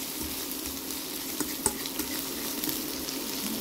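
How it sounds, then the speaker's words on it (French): Onions caramelizing in a frying pan give a steady, moderate sizzle with a faint background hiss and a few small pops and clicks, no voices. "Comme ça, je vais caraméliser mes oignons."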